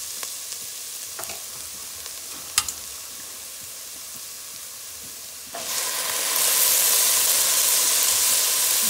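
Bora beans tipped into seasoning cooking in a pan: a few scrapes and clinks at first, then a sudden loud, steady sizzle that swells and holds to the end.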